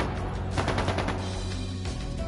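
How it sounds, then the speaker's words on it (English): Bursts of rapid gunfire in the video game Trails of Cold Steel II, a rattling, machine-gun-like volley of shots over a dense, rumbling battle soundscape. "That sounded like gunfire."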